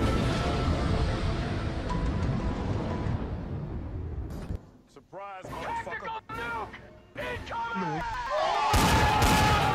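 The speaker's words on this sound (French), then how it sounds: "Donc là, les explosions, man." Explosion and gunfire sound effects in a YouTube Poop edit: dense loud blasts and bursts of firing at first, then a choppy stretch of cut-up voices and effects, ending in another loud burst.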